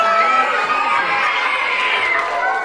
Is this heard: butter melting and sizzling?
no